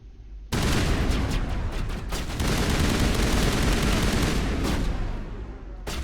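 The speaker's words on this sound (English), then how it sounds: "Man, this gun fucking shreds." Gunfire in the sci-fi shooter Mass Effect Legendary Edition, a sudden sustained burst of rapid shots that roars close and loud for several seconds, then tails off before a final sharp report.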